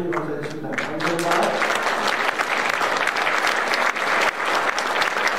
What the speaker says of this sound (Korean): 우리가 박수로 좀 인사드릴 때